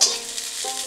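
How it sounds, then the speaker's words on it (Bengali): Garlic and chilies fry in a little oil in a kadai, a short burst of bright sizzling with a slight stir, close and alone. "আর রসুনটা দিয়ে একটু ভেজে নেব।"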